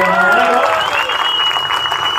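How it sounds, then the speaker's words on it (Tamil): Firefighters receive a round of applause from a crowd at a political rally, with steady clapping throughout and a whistle-like tone and a voice briefly audible at the start. "நம்ம ஃபயர் ஃபைட்டர்ஸ்க்கு நல்ல கைத்தட்டல் கொடுங்க"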